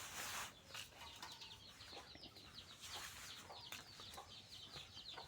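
Chickens and roosters kept at a family home give faint, scattered clucks and calls against a soft outdoor background, with a brief flutter of wings near the start.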